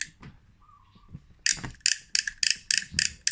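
Rapid ratcheting clicks from the clicker of a Penn 209 Level Wind fishing reel come in quick bursts at a steady rhythm, close by, after a few quieter handling taps and a faint whir.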